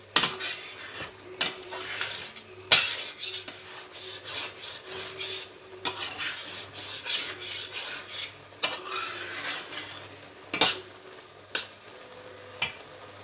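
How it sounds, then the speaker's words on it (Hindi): Spoon scraping and stirring in a cooking pot of carrot halwa, repeated close rasping strokes with occasional sharp metallic knocks against the pot, irregular rhythm over a low background hum. "चमचा चलाते रहना है ताकि हमारा जो नीचे ना लगे"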